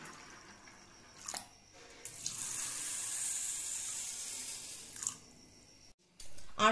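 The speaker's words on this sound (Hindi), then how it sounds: "अब मैं उसमें पानी डाल के उसको 8 से 10 घंटे के लिए" Water runs into a bowl of washed chana dal and rice set to soak, a splashing pour that starts, swells and holds for a few seconds, with small clinks and drips around it.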